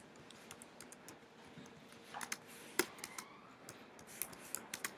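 Typing on a computer keyboard while entering a search question, heard as scattered quiet clicks and taps in an irregular rhythm, with a few louder keystrokes standing out against a faint background.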